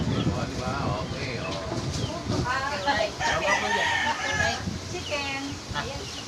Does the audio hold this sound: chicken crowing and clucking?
yes